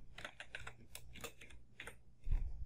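Keys clatter in a quick, uneven burst as an answer is typed on a computer keyboard, close and fairly quiet, with a slightly heavier thump near the end.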